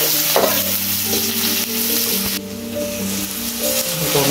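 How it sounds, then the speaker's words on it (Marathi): Onion stir-fried in a hot pan, sizzling loudly and continuously under steady stirring, close up, with a few sharper scrapes and clanks of the utensil against the pan. "थोडा कांदा टाकून घेतले, मस्तपैकी फिरवून घ्यायचं."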